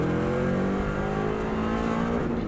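A Subaru Impreza rally car accelerates with a loud, steady engine roar, its pitch rising slightly as it powers out of a bend.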